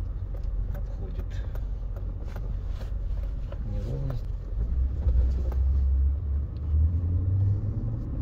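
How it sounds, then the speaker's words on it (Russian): A 1990s BMW M5 E39 rolls over an uneven road, its low rumble and road thumps steady throughout with a brief swell near the end, while a person talks over it inside the cabin. "Машина не жесткая, да, по неровностям едем"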